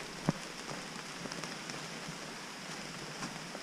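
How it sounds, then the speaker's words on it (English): Light, steady rain pattering on a surface on the Appalachian Trail, with one sharp drop tap early on; no voices, just continuous soft hiss. "It's raining."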